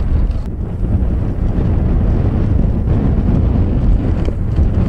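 Steady, loud wind buffeting a microphone at a baseball game, a constant low rumbling roar with no voices.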